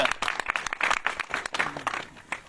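A church congregation applauds during a sermon, a short burst of scattered, moderately loud clapping that fades out over a couple of seconds.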